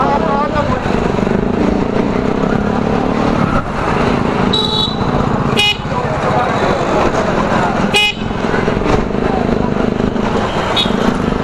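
City traffic heard from a Tunwal electric bike on the move, a constant road rumble with several short car horn toots breaking through at intervals, a person speaking over it.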